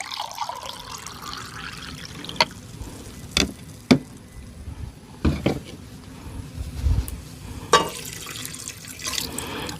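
Purified water poured from a container in an RV kitchen while cooking, a soft trickling stream broken by a few sharp clinks and knocks, close by and fairly quiet, with no speech.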